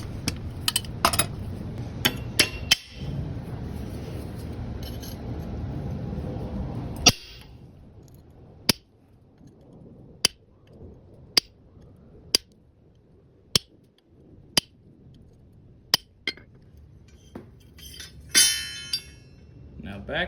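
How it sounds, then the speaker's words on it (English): A hammer drives a chisel into a hot iron bottle opener on a blacksmith's anvil at Sutter's Fort. A busy, noisy stretch gives way to about ten sharp, ringing metallic strikes, evenly spaced and close by. "Bring it over to the anvil where I have everything already set up to do some chisel work."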